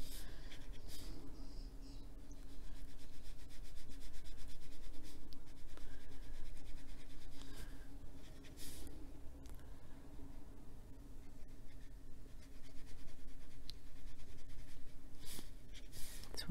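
An Inktense pencil colours on paper with steady, close scratchy strokes and rubbing that continue throughout, broken by brief pauses and a few small taps. It is clear and near, with no talking over it.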